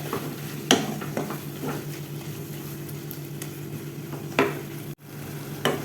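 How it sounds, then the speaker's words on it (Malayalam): Diced tomatoes sautéing in a pan for an achari chicken curry, a steady soft sizzle with scattered scraping stir strokes over a low hum, no talking. "തക്കാളി ചേർത്തിട്ട് അതുപോലെ തന്നെ നന്നായിട്ടൊന്ന് വഴറ്റിയെടുക്കുക"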